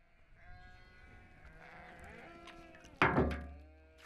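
Sheep and goats on a Mongolian farm bleat in overlapping wavering calls, then a loud thump lands near the end before the sound fades.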